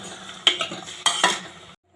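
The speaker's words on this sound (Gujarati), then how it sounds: "તે આ રીતે આપણે શાકને હલાવી લઈશું." A spoon stirs drumstick pod curry vegetable inside a pressure cooker, giving two quick bursts of metal scraping and clinking over a soft sizzle, close and brief, then silence.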